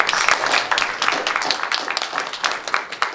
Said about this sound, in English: let's give our moderators a round of applause